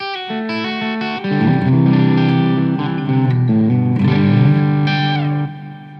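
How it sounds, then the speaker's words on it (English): Electric guitar through an amplifier's clean channel with heavy reverb, playing sustained chords and notes that ring out and blend into a lush wash, loud and close with no talking. "I do have a lot of reverb on there because I love a nice little clean channel reverb"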